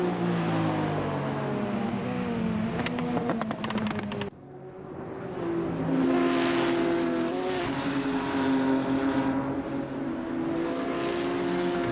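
BMW touring race cars run side by side at Mugello in a CTCC round, engines droning loud and close with rising and falling pitch, a brief dip midway before the roar swells again.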